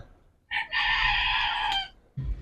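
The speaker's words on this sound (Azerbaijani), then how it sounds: "3 fərə 1 xoruzdur." A decorative rooster crows nearby in one loud, drawn-out call of about a second and a half, with faint clucking around it from the hens kept alongside.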